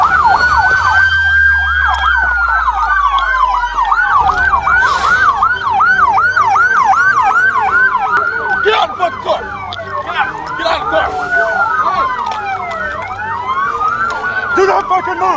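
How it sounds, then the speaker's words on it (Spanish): Loud police sirens wail and yelp close by during a high-speed police chase, overlapping one another, with a low engine rumble underneath at the start. "Sirenas, neumáticos chirriando y luego silencio."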